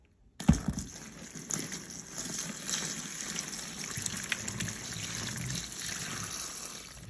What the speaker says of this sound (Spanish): Agarro el agua caliente de la llave.